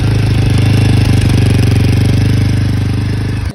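A motorcycle exhaust thumps close and loud in a steady, even idle pulse that holds for a few seconds before cutting off abruptly at the end.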